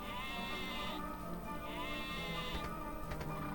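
Within a video game, a single sheep bleats in drawn-out, wavering calls, two or three in a row, fairly clear over a constant ambient game backdrop.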